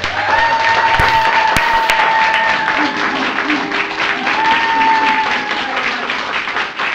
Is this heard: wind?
no